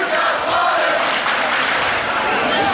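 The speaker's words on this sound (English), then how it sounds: "Both cheer blocks going back and forth too, Chris." Crowd at a high school boys basketball game, with rival cheer sections chanting back and forth in a gym, a dense, steady roar of many voices with no break.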